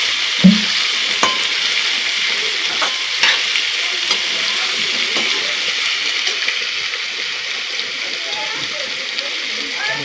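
Bottle gourd curry is stirred in a hot pan, a loud steady sizzle like light rain with occasional knocks and scrapes of a spoon, continuing without pause.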